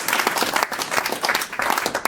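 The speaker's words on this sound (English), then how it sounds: "Let's give him a round of applause." Dense, loud clapping from a party conference audience at a UKIP spring gathering, with a rapid, busy rhythm of many hands close by and a few cheers mixed in.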